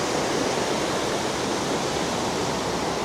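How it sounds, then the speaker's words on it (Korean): Steady, full roar of a waterfall beside the road to Mon Jam in Chiang Mai, Thailand, a dense continuous rush of falling water heard close and loud throughout, with no voices over it. "이렇게 갑자기 폭포 있는 데가 있어가지고, 폭포가 꽤 잘 보여가지고"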